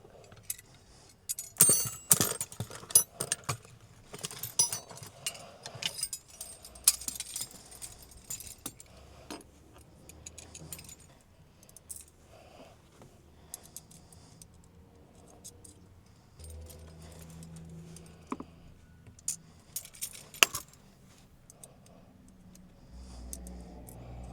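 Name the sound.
fastening fire extinguisher bracket hardware with 8mm spanners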